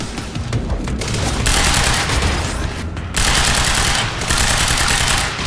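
Rapid, dense gunfire bursts from Quantum Break on hard difficulty, loud and sustained for several seconds with brief gaps between volleys, dominating the mix with no talk over it.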